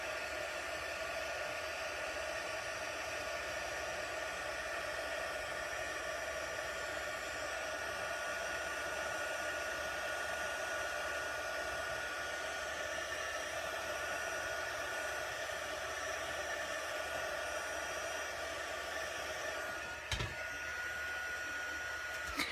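A heat embossing tool blows hot air over a Stampin' Up! anniversary card, giving a steady, even whoosh with a motor whine that runs unbroken, interrupted only by a brief click near the end.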